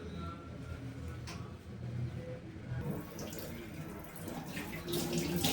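Mutton brain being rinsed in water, with a steady faint splashing and running-water wash throughout, a few soft clinks and a quiet voice in the background.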